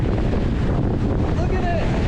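Strong Patagonian wind roars steadily against the microphone on an open hiking trail, a loud, continuous buffeting rush with no pauses and only faint background detail.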